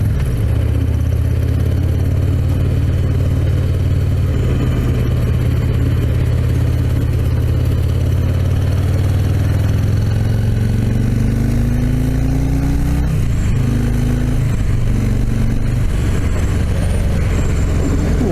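A car with a big engine pulls hard through the gears on the road, its loud, droning exhaust note rising and falling with gear changes, heard close and continuous from inside the cabin with no talk over it.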